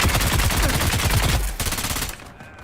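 Rapid automatic gunfire from a weapon in Dune: Awakening, a loud sustained burst of closely spaced shots for about a second and a half before tailing off into quieter game ambience.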